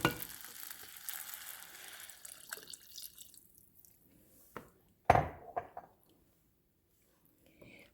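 Oil sizzling in a pot while saffron rice cooks, a steady frying hiss for a few seconds that fades, followed by a few sharp clinks and scrapes of utensils against the pot.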